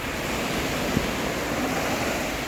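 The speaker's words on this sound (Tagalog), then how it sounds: "Ang alon, no?" Surf at Stanley Beach on Hong Kong's south side rolls in as a dense, loud, continuous wash of noise with wind across the microphone, and no talking.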